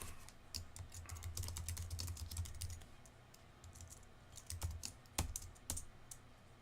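Computer keyboard typing up close, bursts of quick irregular key clicks that thin out into scattered single taps, with no speech.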